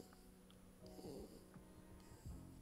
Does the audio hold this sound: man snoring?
yes